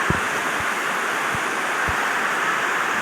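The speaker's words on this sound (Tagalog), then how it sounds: "Ang laking tubig." A large volume of floodwater rushing in the rain, a loud, unbroken roar of flowing water with a few low thumps, no voices.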